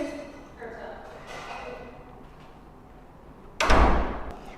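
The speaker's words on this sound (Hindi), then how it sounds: "यार दरवाजा बंद कर ले।" A door shuts with a single loud, close thud near the end, after a stretch of people talking in Hindi.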